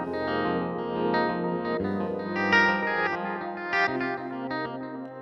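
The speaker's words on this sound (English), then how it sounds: "Turn on the guitar." A guitar preset on a Yamaha CP73/88 stage piano, played as distorted, chorused chords with echo, heard alone with no talking.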